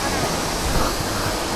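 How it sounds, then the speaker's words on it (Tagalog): Bridal Veil Falls on Kennon Road roars as a loud, continuous rush of falling water, heard up close, with a few brief swells in the flow. "Ito yung falls, guys."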